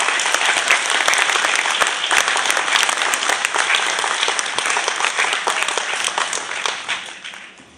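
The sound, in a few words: audience applause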